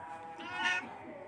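A cat lets out a single drawn-out meow, rising and then fading, heard close by but fairly soft against quiet room tone.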